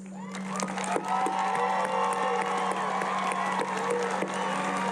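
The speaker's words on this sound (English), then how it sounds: "Friends and family, please join me in applauding these students." A graduation ceremony audience of friends and family applauds graduating students: dense, steady clapping and cheering fills the whole stretch at moderate level over a constant low electrical hum.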